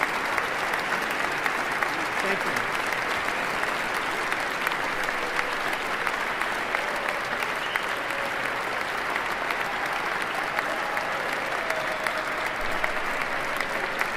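Sustained crowd applause at a presidential inauguration, a dense, steady wash of clapping from a large outdoor audience that runs throughout, with a brief spoken thanks at the start.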